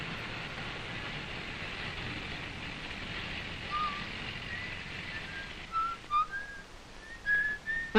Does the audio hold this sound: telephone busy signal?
no